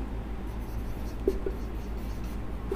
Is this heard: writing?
yes